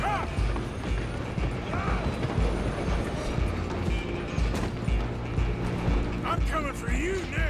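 A train rolling along the tracks in the video game Red Dead Redemption 2, with a rumbling, clattering wagon rhythm and metallic mechanical clanks, overlaid by brief voices and game effects.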